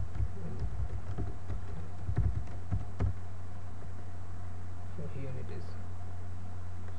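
Scattered computer keyboard keystrokes in MATLAB, a short irregular burst of clicks over a steady low hum, then quiet with soft movement.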